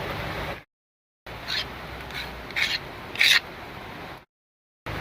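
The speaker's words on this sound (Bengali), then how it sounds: "একটা পেঁয়াজ গ্রেট করে নিচ্ছি" An onion rubbed against a kitchen grater in short raspy strokes, a few louder scraping bursts separated by brief silent gaps, close and alone.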